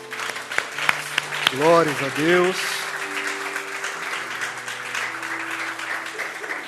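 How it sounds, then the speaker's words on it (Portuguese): A church congregation applauding, a steady wash of clapping beneath a voice that speaks and briefly sings over it, with tonal music or organ-like notes sustained in the background. "Vamos dar uma salva de palmas para ele"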